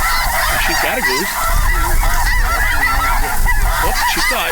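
Geese honk repeatedly during a waterfowl hunt, a loud, overlapping chorus of calls that carries on steadily and close by with no talk over it.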